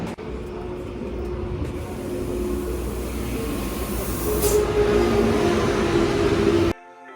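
A steady rumbling train ride, with continuous low mechanical drone and rolling noise that swells slightly before cutting off abruptly.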